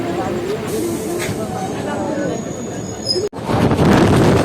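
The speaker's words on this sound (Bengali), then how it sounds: "পাশের লাইনে ঢুকছে বর্ধমান থেকে রামপুরহাট লোকাল" A Burdwan–Rampurhat local train rolls into a station on the adjacent line, heard from aboard a passing express as a loud, continuous rumble of wheels and carriages that jumps in intensity near the end.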